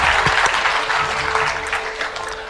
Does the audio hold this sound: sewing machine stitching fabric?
no